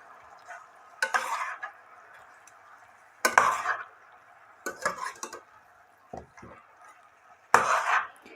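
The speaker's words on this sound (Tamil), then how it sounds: "இது எல்லாத்தையும் சேர்த்து ஜஸ்ட் கொஞ்சம் கிளறி கொடுங்கணும்." Chicken karahi ingredients stirred in a pot, giving a few separate bursts of clinking and scraping against the metal over a low steady background hum, with quiet gaps between.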